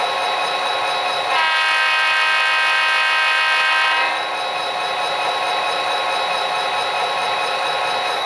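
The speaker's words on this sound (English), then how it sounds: "So here's the factory horn." The factory horn of an Athearn SD40-2 model locomotive with an Econami sound decoder sounds one steady, multi-tone blast of about three seconds over a constant electronic running hum.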